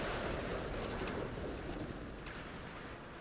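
Turrets exploding in the space strategy game Star Trek Legacy: a sustained, rumbling roar of blasts that slowly fades, with no talk over it.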